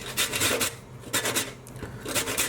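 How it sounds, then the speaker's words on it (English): A lemon is rubbed against the zester side of a grater in rhythmic rasping strokes, about three scraping bursts up close with short pauses between, no voices. "I'm just going to use the zester on my grater for this"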